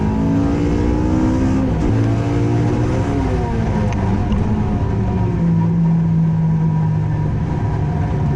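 A K24R VTEC-swapped, fully tuned Toyota MR-S revs loud and close, its engine note rising and then dropping as the transmission fails, under a continuous roar with no talking.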